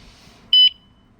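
A Tommebike Icon e-bike's alarm gives one sharp electronic beep, about a fifth of a second long, as it is armed. The beep is close and loud against a quiet outdoor background.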